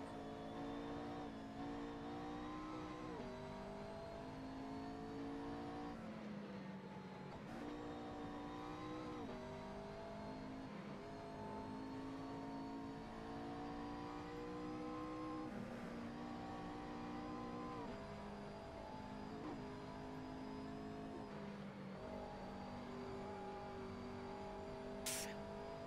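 Race car engines in Assetto Corsa at Mugello drone continuously for the whole stretch, rising repeatedly through the revs and dropping at each gear change, loud and steady with no pauses.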